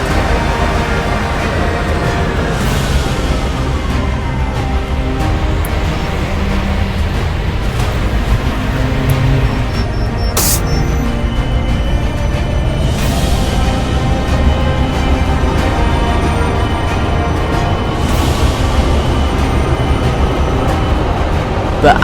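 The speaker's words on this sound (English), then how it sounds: "the tram snakes ahead and stops at Lebanon Road" A tram in the Croydon Roblox driving game runs ahead toward the Lebanon Road stop with a continuous rolling rail rumble and low mechanical drone. A brief high tone rings out midway.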